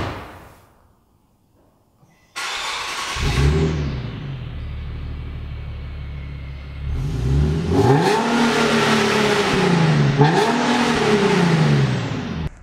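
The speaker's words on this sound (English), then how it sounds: "give it a couple of revs so that you can check out what the exhaust note sounds like" A 2011 Infiniti G37 IPL engine fires up after a brief quiet moment, idles with a throaty exhaust rumble, then is revved twice, rising and falling each time.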